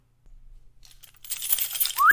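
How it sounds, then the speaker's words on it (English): A bunch of keys jingled, bright metallic clinking and rattling that starts faint and grows louder and busier over two seconds, alone without talk. "Let me jingle some keys or something at him."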